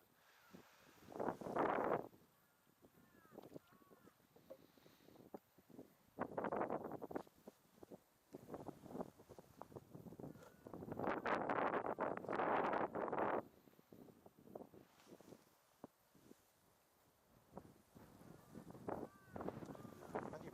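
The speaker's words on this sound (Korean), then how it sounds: "바람이 좀 세네" Strong wind buffeting a microphone outdoors, heavy low rumbling gusts swelling and fading in irregular bursts, with people talking intermittently between them.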